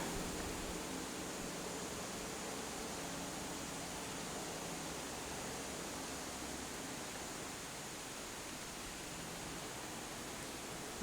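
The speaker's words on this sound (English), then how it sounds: "So there'd be another little waterfall right there." Steady broadband rush of a small waterfall at Great Gully near Cayuga Lake, a constant even hiss of falling water that holds unchanged throughout, with no voices over it.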